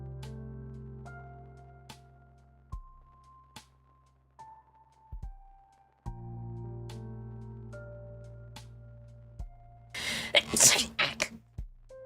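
A single loud sneeze near the end, close and abrupt, follows a stretch of quiet with soft tones and small clicks.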